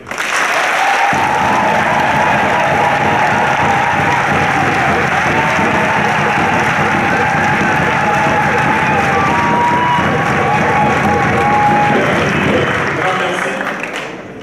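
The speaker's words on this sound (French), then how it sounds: "Je voudrais que vous puissiez ici applaudir tous les Congolais qui sont dans la diaspora" A large crowd at a Congolese diaspora political rally in Brussels breaks into loud, sustained applause and cheering, a dense unbroken roar of clapping and shouts for about fourteen seconds before tapering off.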